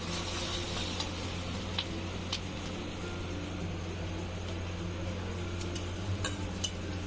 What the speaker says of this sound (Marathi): थोडंसं मीठ टाकून घ्यायचं कांदा मग लवकर होते